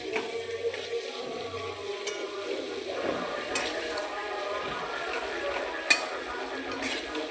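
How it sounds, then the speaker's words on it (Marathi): Paneer frying lightly in butter with salt and Kashmiri red chilli, a soft steady sizzle with occasional spoon scrapes and clinks against the pan, fairly quiet throughout. "बटरमध्ये पनीर ॲड करून द्यायचे, नमक ॲड करायचं, काश्मीरी लाल मिर्च, एकदम हलकं थोडंसं फ्राय करून घ्यायचं आपल्याला।"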